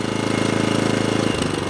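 An Atco Balmoral 20SK lawn mower engine running hard at steady full revs, a fast rhythmic mechanical drone that dips in pitch near the end, close and loud.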